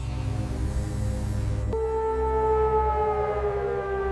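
A loud, steady wail of a 1962 civil defense siren in Centralia, Pennsylvania drones on, then its pitch shifts and settles into a sustained lower tone as it winds down.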